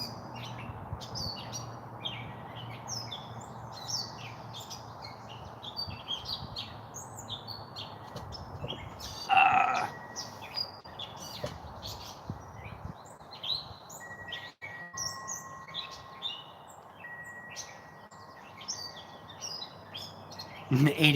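Birds chirp and tweet at sunrise in a busy outdoor chorus of quick, repeated short calls, moderately near, with a low background hum, a few scattered knocks and a sustained tone partway through.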